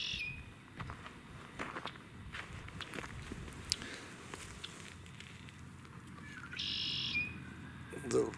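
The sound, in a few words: birds chirping outdoors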